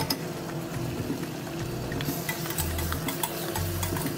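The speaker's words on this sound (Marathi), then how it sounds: "ही कोळंबी एकदम व्यवस्थित छान परतून घ्यायची।" Prawns fry in a masala of red chilli and oil in a pan for a Konkan-style prawn curry, a steady close sizzle with soft stirring scrapes throughout.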